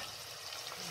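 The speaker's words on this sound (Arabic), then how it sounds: "كتشحر البصلة والزيت" Onion frying in oil in a pot for couscous broth, a soft steady sizzle, faint and close, with no talk over it.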